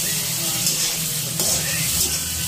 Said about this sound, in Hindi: देखिए पनीर हम फ्राई कर रहे हैं।